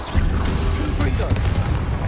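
Explosive fire spell blasts in Hogwarts Legacy combat, a dense, loud rumble of booms and crackling impacts layered over game music and effects, with a voice speaking over the action.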